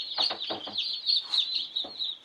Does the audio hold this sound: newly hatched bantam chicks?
yes